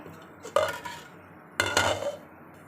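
A spoon scrapes and clinks against a pan on the stove while food is stirred, two distinct bursts of metallic stirring separated by quiet, close and clear.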